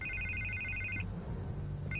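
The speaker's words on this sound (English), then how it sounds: "I can't get the phone to stop ringing." Electronic telephone ringing in a Batman Telltale video game: a bright trilling ring lasting about a second, a pause of low background hum, then the ring starting again, with no voices.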